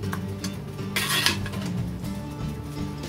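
Dutch apple pie jam mixture of apples and water heating in a pot while being stirred, with soft clinks and scrapes of a utensil against the pot and a brief louder clatter, close by and without speech.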